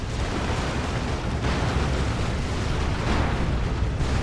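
Rocket run explosions in the Warhammer 40,000 strategy game Dawn of War 2 during a 3v3 battle: a dense, continuous roar of blasts and rumbling booms, loud and sustained throughout with no gaps.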